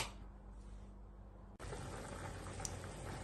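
Tamarind water for a stingray fish curry bubbles in a pot on the stove, a soft steady simmering hiss that turns to a brighter, busier boil partway through, close and quiet with no talking.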